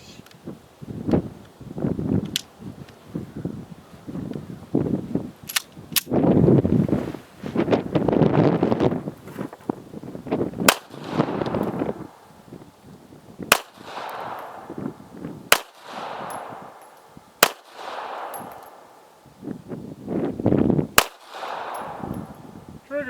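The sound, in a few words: Taurus Spectrum pistol shots at a shooting range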